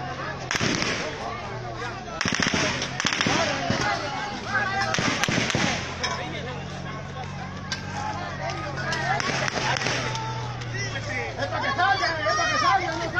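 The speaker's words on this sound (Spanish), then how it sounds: "Estamos escuchando tiros." Sharp, loud gunshots burst out repeatedly during an attack on a police base in Ciudad Isla, over a steady background of crowd chatter and babble.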